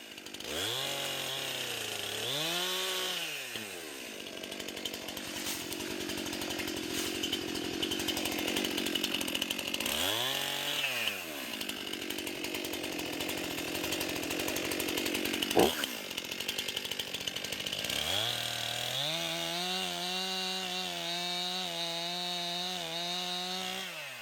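A Stihl-style 261 pro chainsaw cuts through wood, its engine rising into repeated high revving bursts between idle stretches, loud and close with a steady rough whine throughout.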